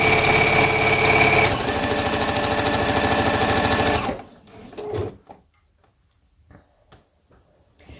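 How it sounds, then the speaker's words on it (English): Domestic sewing machine stitching through quilt layers, a sleeve and binding, running loud and steady for about four seconds with a rapid even rhythm, then stopping, leaving near silence with faint handling noises. "I'm sewing through the layers of the quilt, the 2 layers of the sleeve, and the 2 layers of the binding."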